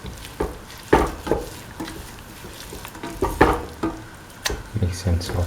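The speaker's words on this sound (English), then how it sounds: "mix and saute thoroughly" A ground coconut, fennel and coriander mixture is stirred and sautéed in a pan, with repeated scraping and stirring strokes and a light sizzle. The sounds come at an irregular rhythm, close by and moderately loud.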